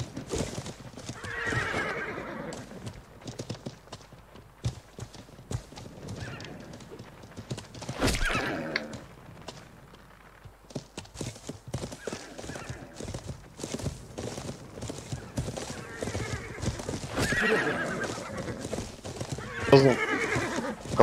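Close horse whinnies and clip-clopping hooves recur throughout in the medieval online game Life is Feudal, with louder neighs at intervals and faint voices underneath.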